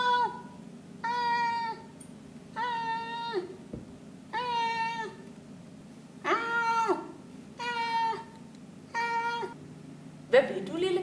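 A cat meows repeatedly, about eight clear drawn-out calls spaced roughly a second apart over a low steady background hum, close and fairly loud, likely voiced by a person imitating a cat in a children's story.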